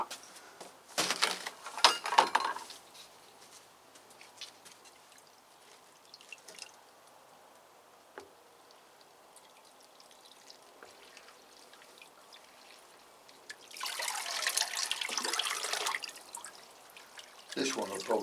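Water pours and splashes in two bursts onto a potted Phalaenopsis orchid in fresh bark, near and moderately loud, separated by a long quiet stretch with faint drips and rustling.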